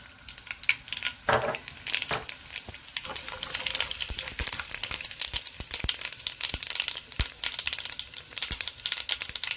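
Cumin and mustard seeds sizzle in two spoonfuls of hot oil, a dense steady crackle with scattered sharp pops and spits running throughout, close and fairly loud with no talking.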